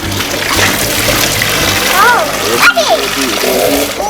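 A dog being bathed at home: water splashes and sloshes steadily, close by, while a child and an adult talk over it.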